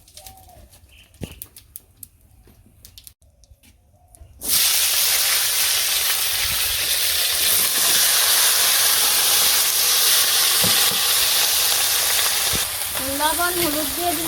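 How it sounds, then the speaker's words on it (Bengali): Vegetables drop into hot oil already tempered with bay leaf and cumin, bursting into a loud, steady sizzle after a quiet opening where birds chirp faintly; a bird call returns near the end over the continuous frying. "তারপরে সবজি দিয়ে দিব।"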